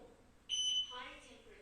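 A short, high electronic beep sounds once from an infrared thermometer's high-temperature alarm, then a person starts talking quietly.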